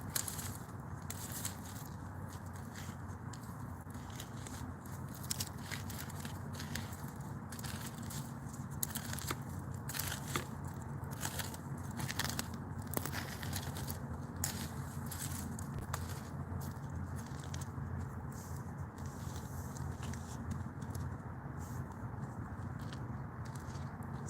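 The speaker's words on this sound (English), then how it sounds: "I can hear a little bit of crackling" A campfire smothered under sand gives off sparse, faint crackles and small pops over a steady low background hiss, the snaps scattered irregularly and sitting close but quiet.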